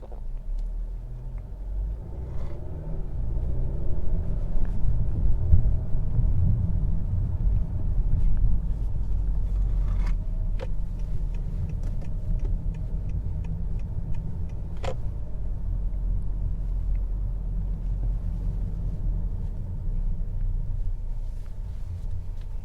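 A 2021 Honda Accord 2.0T with a 10-speed automatic climbs a hill, a steady low road and engine rumble heard from inside the cabin, with occasional faint ticks and clicks over the drone.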